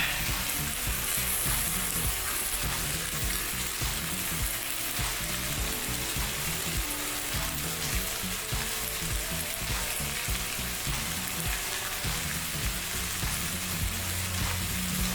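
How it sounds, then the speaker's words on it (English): Onions fry steadily in a pan, giving a dense, continuous close-up sizzle with faint crackles and no talking throughout. "we will go back and stir the onions"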